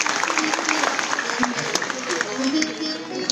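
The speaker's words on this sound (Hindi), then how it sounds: "एक बार ताली बजा दीजिए सरकार के लिए।" An audience at a Ramayan katha on Sita's swayamvar claps in steady, dense applause that fills the whole moment.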